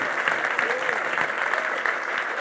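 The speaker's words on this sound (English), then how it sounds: "Keep that applause going for Michael Rosen." A dense, even wash of audience clapping for poet Michael Rosen at a live reading event, sustained and close with no pauses, a voice faintly audible over the crowd.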